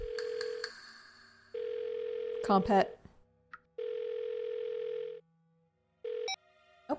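Ringback tone of an unanswered phone call in the Blackwell Deception video game: a steady tone repeats in several long bursts with pauses between them, and a voice speaks briefly during one gap.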